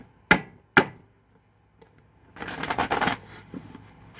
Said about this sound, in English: Shuffle it one more time.